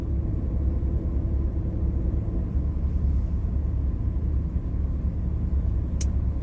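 Low, steady road rumble of traffic at a truck stop drones on without a break, a dense engine-like hum with no distinct passes or voices.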